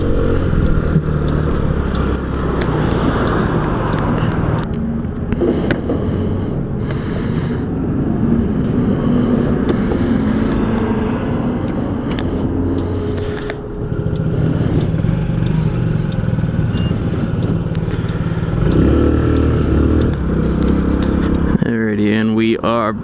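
A Honda Ruckus scooter's small engine drones steadily throughout while riding along a road, with wind rush and someone talking over it, the motor easing slightly as the scooter slows to pull into a gas station.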